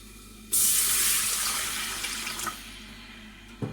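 Water poured into a pot for a white soup with dumplings, starting abruptly as a steady, close, rushing stream that slowly softens, with a brief knock near the end.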